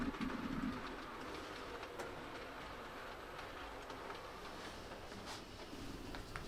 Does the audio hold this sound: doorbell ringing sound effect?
no